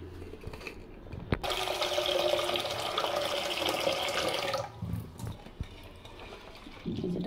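Red lentils (masoor dal) being washed in a saucepan, with running water splashing and swirling steadily up close for several seconds before easing into quieter sloshing.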